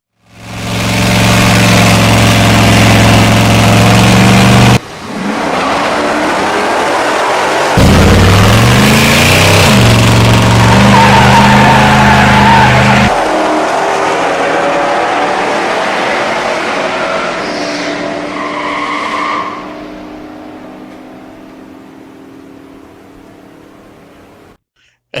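A Chevy Caprice SS 9C1 with its 5.7-liter LT1 V8 roars loudly through repeated revs, dropping and rising, then fading toward the end, with no talk over the engine.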